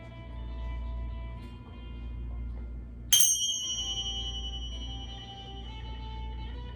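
A single bell struck once about midway, closing a yin yoga pose, rings out clear and bright then decays slowly over several seconds above a steady low background hum.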